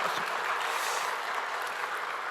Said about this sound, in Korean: 우리 한번 감사의 박수를 올려드리겠습니다